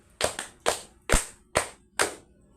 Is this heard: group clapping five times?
yes